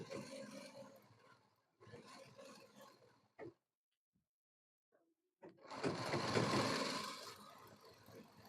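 An electric sewing machine stitches a men's shirt in short bursts of whirring, starting and stopping with brief silent pauses, then running longer and louder near the end.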